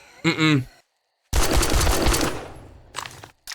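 Bursts of gunfire in the survival video game 7 Days to Die: a brief shot-like hit, a dense roughly one-second volley of rapid shots, then a few shorter bursts, loud and close.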